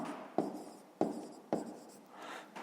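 Pen writing by hand on paper during a fifth-grade math exercise, with three quick scratchy strokes at regular intervals and a lighter scribble at the end, close and quiet.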